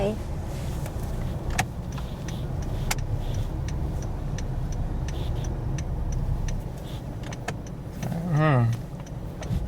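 A car driving slowly around during a driving lesson in California, with a steady low engine and road rumble, scattered ticks and rattles inside the cabin, and a brief whine near the end.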